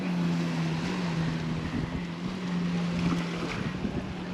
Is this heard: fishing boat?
yes